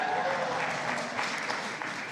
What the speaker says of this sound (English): You can applaud that if you'd like.